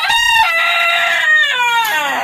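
A rooster among farmyard chickens gives one loud, close, drawn-out crow lasting about two seconds, with a strained, wavering pitch.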